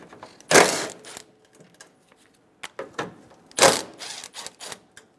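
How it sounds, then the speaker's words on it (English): A ratchet turning a 10mm socket on the grille bolts of a 2005-2015 Toyota Tacoma, with two loud bursts of rapid clicking about three seconds apart and softer scattered clicks and taps between them, close by. "Using a 10mm socket, remove the 2 bolts for the grille."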